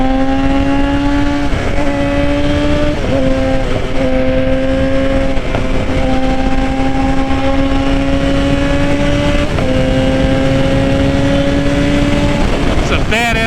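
Suzuki GSX-R 750 sport motorcycle on the move, a loud steady engine drone with small shifts in pitch and brief dips between gears, while a voice talks over wind noise.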